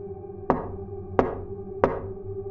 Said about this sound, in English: there were 3 gentle, spaced-out knocks